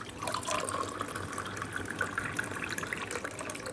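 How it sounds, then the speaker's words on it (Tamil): Water pours steadily from a tumbler into a container, a soft continuous splashing and gurgle, fairly quiet and close. "அஞ்சு டம்ளர் தண்ணி ஊற்றிட்டு காட்டுறேன்"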